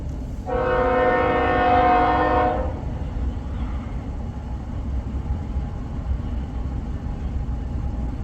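A freight train coming off the Blair Fremont subdivision onto the Boone subdivision sounds a loud sustained horn blast, then its heavy rumble continues steadily underneath.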